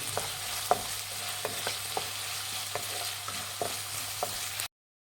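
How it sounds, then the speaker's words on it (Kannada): Chopped carrots and beans frying in a pan for hotel-style veg fried rice: an even sizzle broken by regular spatula taps and scrapes as the vegetables are tossed. It stops abruptly into silence near the end. "ತರಕಾರಿಗಳು ಇದು ಅಷ್ಟೇ ಫ್ರೈ ಮಾಡಿ"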